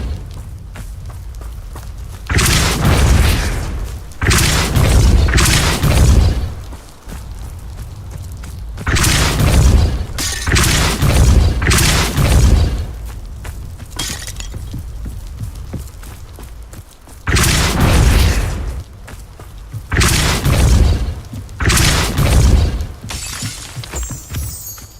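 Depulso spell blasts in a wizarding video game, repeated loud bursts with crashing, shattering impacts in several clusters, each followed by debris clatter and quieter gaps.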